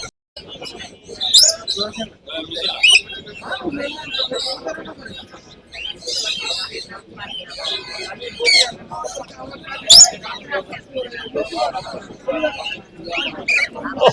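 Many caged birds chirp, tweet and squawk continuously at Mirpur 1 bird market in Bangladesh, with dense overlapping calls near and far and people talking throughout.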